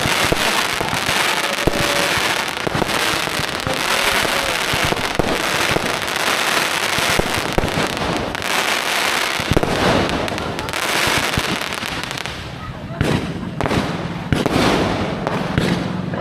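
Christmas fireworks bursting in a dense, continuous barrage of loud cracks and booms, crackling on without pause throughout, with a few faint voices in the background.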